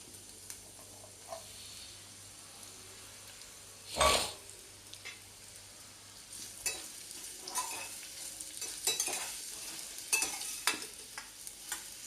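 Two large thinly sliced onions frying slowly on low heat in a pan for a mango and cashew curry, giving a soft steady sizzle with occasional stirring scrapes and one louder clatter.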